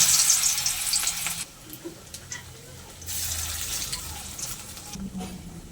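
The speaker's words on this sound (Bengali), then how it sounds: "তেলটা আমার গরম হয়ে গেছে, এবার কোপ্তাগুলো একে একে ভেজে নেব।" Spinach koftas frying in hot oil, a bright hissing sizzle that swells and fades in bursts, with faint clinks of utensils between them.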